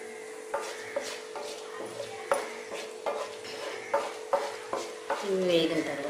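Mustard seeds, urad dal, chana dal and cumin frying in hot oil for okra fry, soft sizzling broken by sharp pops and spatula taps against the pan at irregular intervals.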